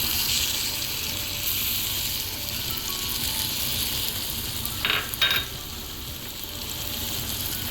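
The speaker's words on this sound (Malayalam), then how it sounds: "ഇടയ്ക്കൊന്ന് ഇളക്കി കൊടുക്കുകയും വേണം" Chili powder sizzles steadily in a pan for prawn curry, a continuous frying hiss with a couple of brief stirring scrapes near the middle; no voices.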